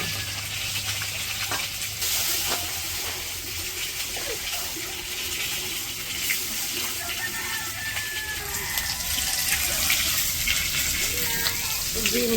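Eggs sizzle steadily in a frying pan while an egg curry is being prepared, a continuous broadband hiss with occasional soft crackles that stays fairly even throughout.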